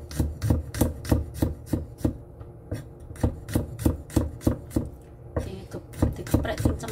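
Garlic cloves being smashed hard on a cutting board in a home kitchen, a rapid run of sharp, close thuds repeating steadily throughout.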